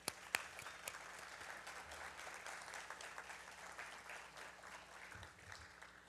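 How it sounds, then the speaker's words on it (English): Applause from a convention audience honoring surviving spouses at a Tuskegee Airmen gathering, steady sustained clapping from a large crowd throughout, with a couple of sharper close claps near the start. "Let's give them a round of applause."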